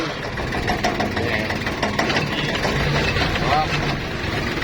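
A used tractor imported from Japan runs with a steady mid-pitched engine drone and light knocking, heard close under someone talking.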